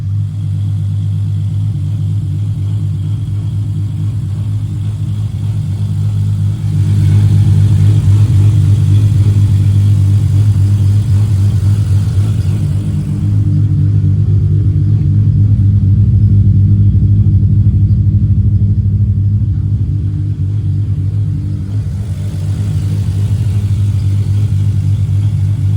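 A 1200bhp MKIV Toyota Supra engine idles while warming up, a deep, loud, steady rumble close by with slight swells in level and no one talking.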